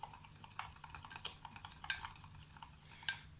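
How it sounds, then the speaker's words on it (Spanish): A spoon stirs microwave cake batter of flour and liquid in a bowl, making soft continuous scraping with a few light clinks against the bowl's side, close and fairly quiet, with no talking. "Y revolvemos para que no queden grumos."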